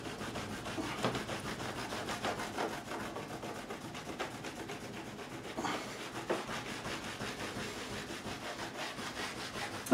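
Steady rubbing of finish into the wooden body of a Kramer Pacer FT202S-MR electric guitar, a continuous close scrubbing texture with rhythmic strokes through the whole stretch, no talking.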